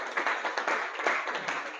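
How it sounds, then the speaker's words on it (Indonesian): A classroom of students claps for a group after its presentation, a fairly near burst of uneven hand claps with a loose pulsing rhythm and no talking. "Tepuk tangan untuk kelompok 3 dulu."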